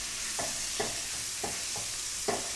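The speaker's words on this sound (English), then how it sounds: "So I'm just going to cook the carrots and the mushrooms at this point in time" Carrots and mushrooms for a vegetable and chicken stir fry frying in a pan, with a steady sizzle and about five rhythmic stirring scrapes spaced roughly half a second apart.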